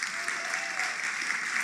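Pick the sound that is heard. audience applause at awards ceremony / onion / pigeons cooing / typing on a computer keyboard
audience applause at awards ceremony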